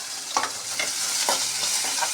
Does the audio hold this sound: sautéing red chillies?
yes